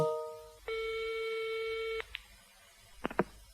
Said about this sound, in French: La secrétaire d'Éric Blanc téléphone à une agence de voyage.